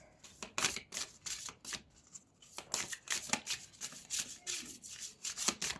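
Oracle cards are shuffled by hand in a quiet room, a run of soft, papery riffling bursts repeating close to the mic, with no talk over them.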